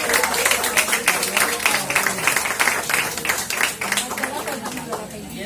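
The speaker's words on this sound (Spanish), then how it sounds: "Un aplauso a Raúl" A group claps for a new seminarian and teacher, a brisk burst of hand claps that stays lively, then thins and fades toward the end.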